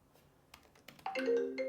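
A phone rings with an incoming call during a live sales call: faint clicks and handling noises first, then a clear electronic ringtone swells in close and holds its bright tones to the end.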